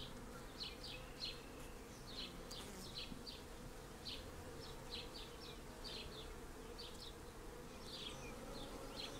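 Honeybees in a hive building comb on a starter strip give a steady, dense buzzing drone, with faint higher flickers as individual bees pass close, and no voices.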